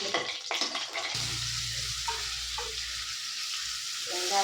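Vegetables sizzling in hot oil in a pan for a masala, with a few clattering knocks at the start before a steady, even fry continues alone.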